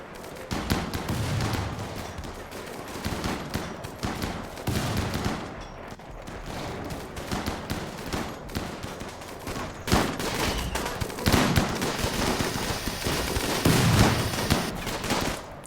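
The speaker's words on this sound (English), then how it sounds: "Do you see how many bullets that dude just took?" Gunfire from a RimWorld battle, a continuous dense fusillade of rapid shots and machine-gun bursts with no pauses, loud and crowded throughout.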